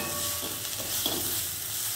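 Okra (lady's finger) coated in spice powder frying in oil for a spicy poriyal, making a soft continuous sizzle with light stirring, close and without speech.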